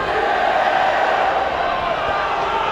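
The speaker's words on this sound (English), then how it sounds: "it's the Millfield pupils who are singing in the crowd at the moment" Millfield School pupils chant and sing steadily from the crowd at an under-18 schools rugby final, a dense sustained wash of voices heard from a distance.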